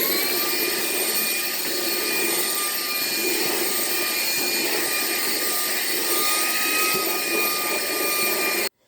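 A Ryobi HP cordless stick vacuum fitted with a crevice tool sucks up small debris with a loud, steady, high-pitched whine that holds evenly for several seconds before abruptly shutting off.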